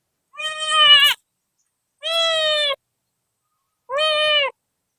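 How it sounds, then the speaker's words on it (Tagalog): Three clear, drawn-out cat meows, evenly spaced and close, each a loud wavering cry separated by silence. "Ito pala yung yung pusa natin."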